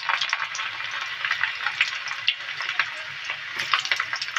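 Whole garlic cloves, cumin and whole spices frying in hot oil in a pan, a steady close crackling sizzle with scattered sharper pops throughout, no voices.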